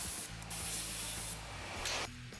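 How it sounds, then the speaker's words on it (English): An air nozzle blows a steady, close hiss to dry off a polishing tool and the edge of a stone, the loud spray continuing for about two seconds with a brief surge near the end. "Use an air nozzle to dry off the tool and also the edge of the stone."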